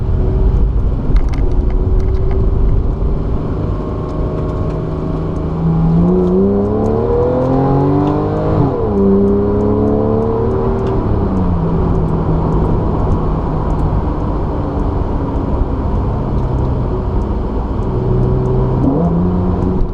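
A 2014 Porsche 911 Carrera 4S coupe with PDK gearbox and sport exhaust revs hard on a road, its loud engine note rising and falling through a shifting sweep before settling back to a steady drone.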